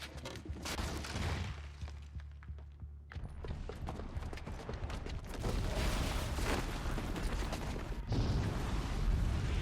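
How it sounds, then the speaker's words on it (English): A big explosion in the video game Horizon Zero Dawn rumbles and crackles with debris, then after a brief lull a second louder wave of blasts and rumbling carries through to the end. "That's a quite big explosion."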